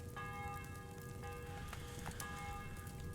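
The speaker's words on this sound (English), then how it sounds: "The bell's ringing for Hans the 5th time." A church bell tolls softly at a distance, its clear ringing tones recurring several times over a steady hiss like light rain, with no voices.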